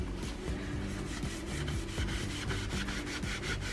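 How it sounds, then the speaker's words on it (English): Gel stain rubbed onto wood with a rag along the grain, a steady soft scrubbing and rustling in repeated strokes, close and continuous with no talking. "just rub it on, and you want to go in the direction of the wood grain"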